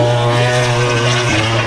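A MotoGP racing motorcycle screams past at the Sachsenring circuit, a loud, sustained high-revving engine note with a slight pitch drop as it passes.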